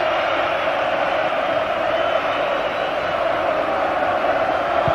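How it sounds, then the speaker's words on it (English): A packed Anfield football crowd roars in celebration of a Liverpool victory over Barcelona in a UEFA Cup semi-final, a loud, sustained wall of cheering and chanting that never lets up. "an incredible noise, the Anfield crowd. And they're celebrating the victory now."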